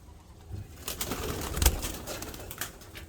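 Red pigeons cooing softly in a loft or aviary, low murmuring calls with a brief flutter of wings midway, fairly quiet and close with no talk over them.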